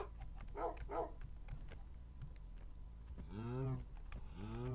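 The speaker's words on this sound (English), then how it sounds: "And the tamed wolf." A tamed wolf in the Minecraft video game, with a Dokucraft Light resource pack, gives two short barks followed by a pair of whining yips, over faint keyboard tapping and background hum.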